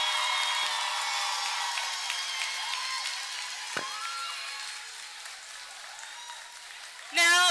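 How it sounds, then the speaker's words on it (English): Audience applause at a fourth grade school graduation, a steady moderate clapping that slowly thins out, followed by a brief louder sound at the very end. "a round of applause."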